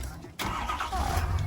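A 2017 Ford F-250 King Ranch pickup engine cranks and catches, a brief starter whir followed by a steady, close idle.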